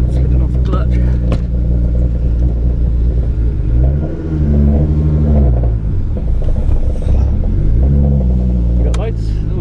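A home-built 4WD engine running with the clutch slipping, a loud close rumbling drone that rises and falls in pitch twice as the revs climb, with people talking over it.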